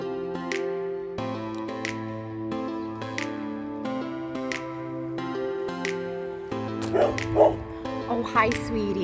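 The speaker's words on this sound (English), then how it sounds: "I know you're barking, but I'd still snuggle you." A dog in Puerto Real, Puerto Rico, gives short, intermittent yips and barks over a steady tonal background, with a few sharper, louder outbursts near the end.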